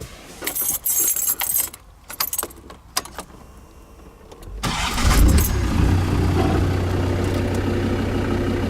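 Keys jangle and click near the ignition of a Land Rover, then the engine cranks and catches in neutral, settling into a steady, loud rumbling idle.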